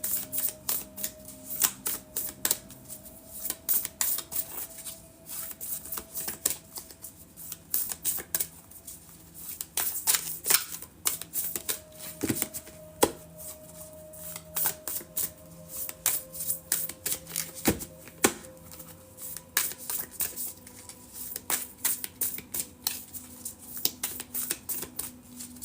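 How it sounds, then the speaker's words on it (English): Tarot cards are shuffled steadily for about twenty-five seconds, a close run of crisp riffling snaps and soft slaps with a faint background tone and no talking. "Shuffling for the collective."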